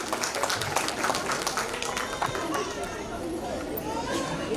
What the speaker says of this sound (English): Now clapping.